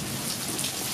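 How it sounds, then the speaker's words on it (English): A rainstorm pours down steadily in a dense, loud hiss of falling rain on surfaces nearby, with no talk heard. "Getting a little rainstorm here."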